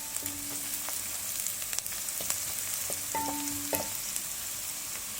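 Minced garlic frying in oil in a cooking pot while being stirred with a large spoon, giving a steady close sizzle broken by scrapes and clinks of the spoon, with no talking.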